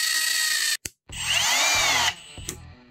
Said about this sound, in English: Using your drill and 1/8 of an inch drill bit, we're going to drill some pilot holes for some screws